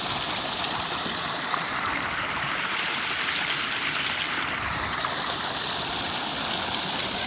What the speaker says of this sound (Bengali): স্যালো মেশিন দিয়ে জল করছে কি সুন্দর